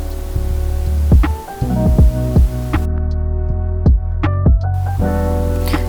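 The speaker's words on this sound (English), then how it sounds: "So I'm actually taking the blow dryer, facing it down and twisting the hair around the front a little bit more" A Revlon One-Step hair dryer runs with a loud, steady motor hum, broken by repeated soft knocks and thumps as it is handled near the hair.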